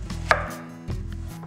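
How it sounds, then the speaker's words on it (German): A knife cuts through an onion on a board in a few sharp, close chops with a pause between them, over a steady low hum from the kitchen. "Nun schneide ich die Zwiebel, halbiere die Zwiebel und schneide sie so"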